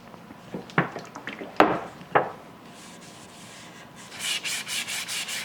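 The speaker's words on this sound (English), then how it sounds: "make sure that you're using like a wet dry sandpaper" Wet-dry sandpaper rubs over an oiled burl-top bass guitar body in a few distinct strokes, then settles into a quick rhythmic run of brisk scrubbing passes, close and fairly loud.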